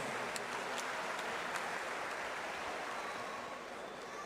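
Audience applause filling a kickboxing arena, a steady dense wash of clapping that holds evenly for several seconds before easing slightly near the end.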